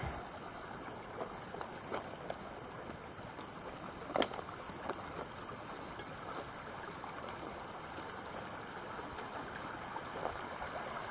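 Sonoma Creek flowing steadily in the background, a soft continuous watery rush with a few faint ticks, heard alone without talk.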